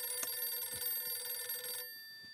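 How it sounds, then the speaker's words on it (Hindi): A telephone rings in a home in the sitcom Taarak Mehta Ka Ooltah Chashmah, a steady electronic ringing tone that stops after a couple of seconds. "फोन की घंटी बज रही है।"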